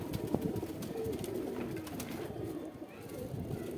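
Domestic pigeons of a high-flying breed from Saharanpur, India, coo in low, soft, rolling murmurs that continue steadily over a noisy background.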